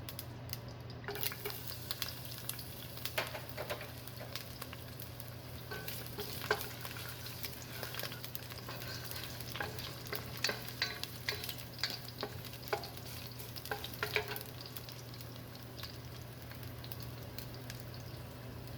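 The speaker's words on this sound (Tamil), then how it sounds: "இப்போ கொஞ்சம் ஆலிவ் ஆயில் ஊற்றி அது சூடானதும் பூண்டை சேர்த்து ஒரு அரை நிமிஷம் வதக்கிக்கோங்க" Chopped garlic sautés in hot olive oil in a pan for curried veggie pasta, giving a steady, soft sizzle with faint crackles and occasional stirring scrapes throughout.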